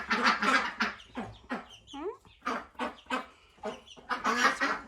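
Soft peeping and chirping of young chicks in a dust bath up close, with a person talking quietly over them.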